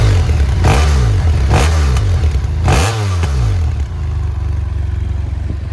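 A BMW F800R 800cc parallel-twin motorcycle engine revs up and down loudly several times in close succession, with rising and falling pitch, before dropping to a steady idle.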